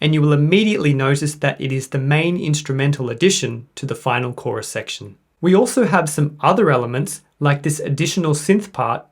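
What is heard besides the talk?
No everyday noise stands out behind the speech.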